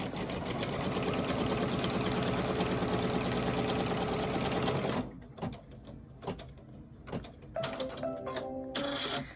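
A home embroidery machine stitches the trimming line on a cinch sack treat bag, with a steady, rapid mechanical whir that stops abruptly after about five seconds, followed by scattered clicks and short motor movements.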